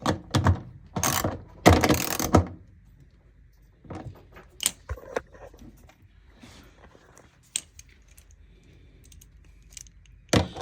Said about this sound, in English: And get the nut driver and drive that. Tighten that.